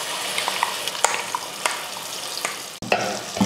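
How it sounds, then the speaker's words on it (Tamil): Ground masala paste sautéing in hot oil with softened onion for a fish curry, a close crackling sizzle with repeated spoon scrapes and taps against the pan, alone without voices. "மசாலா போட்டு நல்லா அந்த எண்ணெயில் வதக்கி விட்டுறலாம்."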